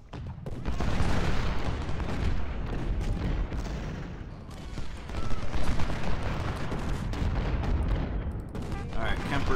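Heavy artillery fire in the Ultimate General: Civil War strategy game, a dense continuous barrage of booming cannon shots and rumbling blasts with rattling gunfire, loud throughout with a surge near the middle.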